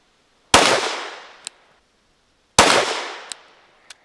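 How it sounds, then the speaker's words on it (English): Two sharp pistol shots fired from a rest at 25 yards while zeroing an optic, each a loud crack with a decaying echo tail, followed by faint metallic clinks of ejected brass. "for zeroing, we're at 25 yards, shooting off just a rest"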